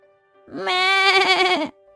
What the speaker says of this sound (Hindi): शेफाली अपनी बकरी जुगनी के सिर पर सहलाती है और सोने चली जाती है।